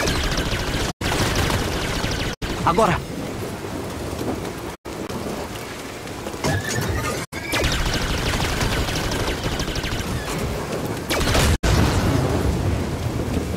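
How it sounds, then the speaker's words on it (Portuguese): Blaster gunfire and explosions from Star Wars Jedi: Fallen Order on Xbox One S roar in a continuous noisy wash, broken by several sharp cutoffs, with a brief shout over the battle. "Tenho que me mover entre os tiros."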